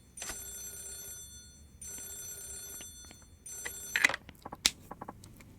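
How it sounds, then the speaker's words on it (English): An in-game telephone rings in Yakuza 0, sounding as three sustained electronic ring bursts with short gaps between them, followed by a few sharp clicks and knocks as the handset is picked up. "You're looking at the phone ringing."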